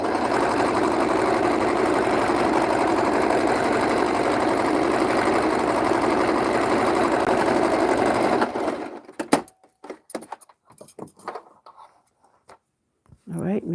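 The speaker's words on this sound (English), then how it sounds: "I'm going to stitch this 1 centimeter all the way around" Sewing machine stitching fabric in a steady, continuous whir for about eight seconds at close range, then stopping and leaving only scattered small handling noises.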